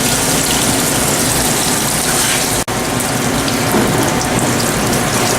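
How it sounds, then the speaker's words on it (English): Fryer oil gushes steadily through a fully opened drain valve into a filter machine, a loud continuous liquid rush with a brief mechanical click partway through. "Open the valve fully, allow all the oil to drain into the machine."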